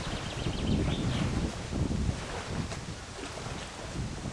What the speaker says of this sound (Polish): dość silny wiatr